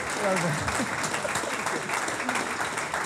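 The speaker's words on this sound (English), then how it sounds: "Can we have a massive round of applause for Mr. Ranjan Bhattacharya?" Audience applause in a meeting room at a property networking event, a steady dense clatter of clapping over the full stretch with voices and cheering mixed in.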